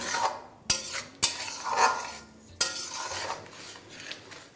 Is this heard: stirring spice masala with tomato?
yes